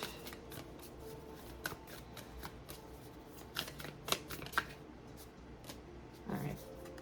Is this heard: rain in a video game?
no